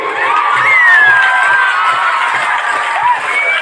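A big crowd at a village bhaona comedy show cheers and shouts loudly and steadily, children's shrill voices and whoops rising over a dense roar, with a little clapping mixed in.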